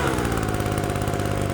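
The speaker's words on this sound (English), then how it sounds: "It's not like crazy loud. You know, it is a really nice little blower." A PROYAMA 3-in-1 gas leaf blower vacuum runs at steady throttle, its small two-stroke engine giving a loud, close, continuous buzzing drone with a rapid pulsing beat and no talking over it.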